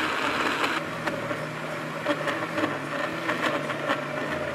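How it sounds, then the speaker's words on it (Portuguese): A blender whirs steadily while blending cooked banana with milk into a thick paste for a banana dish, a moderate continuous motor drone with slight pulsing and no talking. "Agora nós vamos bater a banana no leite até que a massa fique bem pastosa."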